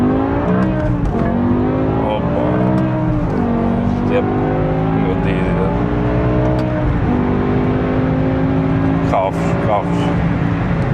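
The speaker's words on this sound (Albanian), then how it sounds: "Vë 10 ulërin mrapa, bam marrë se t'jep me goditje." BMW E60 M5 with its V10 engine roaring loud and close, rising and falling through repeated revs as it accelerates, with someone talking over it.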